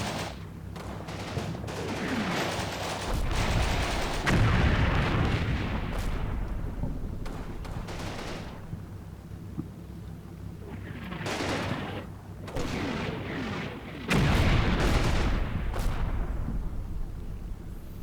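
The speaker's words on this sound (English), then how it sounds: "And there's the artillery strike." An artillery strike in a military training-campaign video game, with repeated booming impacts and rumbling blasts spread across the scene, loud and dense, with a few sharper bangs standing out.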